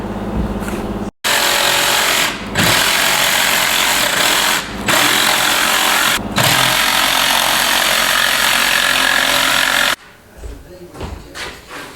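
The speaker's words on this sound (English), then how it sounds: "I don't know what I was thinking using a jigsaw." A jigsaw cuts out a template in loud, close bursts of buzzing, rattling cutting separated by short pauses, then stops.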